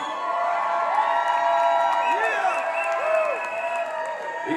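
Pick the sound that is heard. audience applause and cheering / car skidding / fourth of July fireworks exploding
audience applause and cheering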